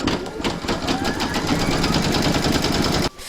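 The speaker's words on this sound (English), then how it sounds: "Pop your hoop into your machine and stitch round number 5 to secure it." An embroidery machine stitching an in-the-hoop coaster, running a fast, even mechanical chatter of rapid needle strokes, close and loud, that stops abruptly near the end.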